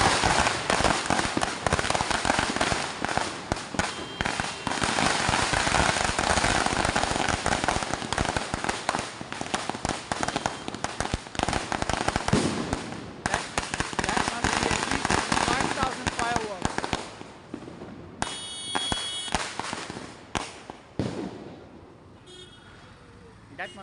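Dense strings of Diwali firecrackers and fireworks crackle and bang nonstop in a residential area, loud and close, with car horns honking through the din before the barrage thins out near the end.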